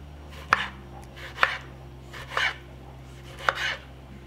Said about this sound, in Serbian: Posle paprike iseckat ću jedan paradajz.